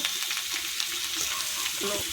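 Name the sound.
frying small fish with potato and tomato in pan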